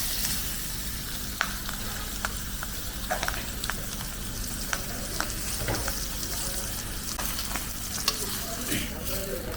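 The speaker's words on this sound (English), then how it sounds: "For that I have a heated pan. We'll just sear it." Short ribs searing in a heated pan, a continuous close sizzle with scattered sharp crackles and pops throughout, no talking.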